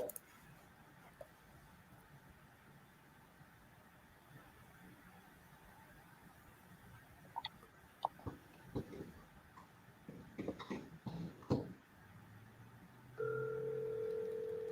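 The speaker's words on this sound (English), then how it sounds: "And we are dialing." A telephone dials out during a sales call, with quiet handling clicks and a few short dialing beeps, then a steady ringback or dial tone starting near the end, faint and close.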